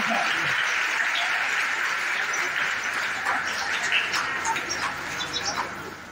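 Sustained applause from the audience at a Marathi lecture marking Karmaveer Bhaurao Patil's 138th birth anniversary, steady and fairly loud throughout, with scattered sharper claps near the end.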